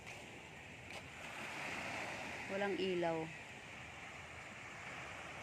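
Ocean waves wash onto the beach at Baler, Aurora, a steady broad roar of surf and wind, with a short burst of speech partway through.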